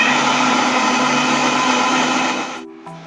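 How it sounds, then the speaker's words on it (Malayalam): An electric mixer grinder blends beetroot and milk into juice in its jar with a steady, loud motor whir and churning that holds throughout, then winds down near the end. "കുറച്ച് ബീട്രൂട്ടും മിൽക്കും കൂടി മിക്സിയുടെ ജാറിലോട്ടിട്ട് ജ്യൂസ് പരുവത്തിൽ അടിച്ചെടുക്കാൻ പോവാണ്."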